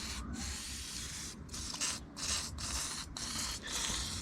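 Parts cleaner sprays from a nearly empty aerosol can in a home garage, a series of short, faint hissing bursts and sputters, about seven in quick uneven succession.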